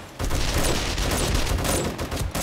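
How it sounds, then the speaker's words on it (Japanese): A Demolisher zombie blowing up in the survival game 7 Days to Die, a loud, sustained blast with dense crackling debris rumbling for about two seconds after a brief lead-in. "デモリッション爆発する。"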